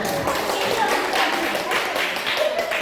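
A small group claps at the close of a teacher's presentation, a brisk, continuous burst of hands, close and fairly loud, with a few voices mixed in.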